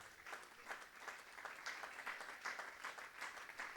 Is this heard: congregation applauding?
yes